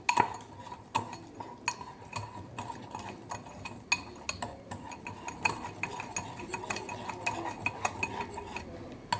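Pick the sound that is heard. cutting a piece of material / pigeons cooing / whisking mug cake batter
whisking mug cake batter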